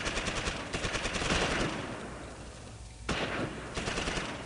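Gunfire and artillery in the Close Combat Normandy invasion war game. Dense bursts of machine-gun and rifle fire crackle steadily, broken by heavier booming blasts and a brief lull.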